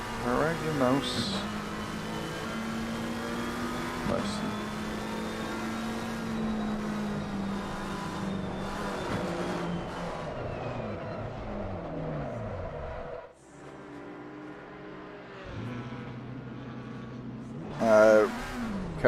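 GT race cars in a simulated endurance race at Bathurst drone continuously with steady engine tones and shifting revs, one pitch sweep of a passing car, while people talk over the engine noise.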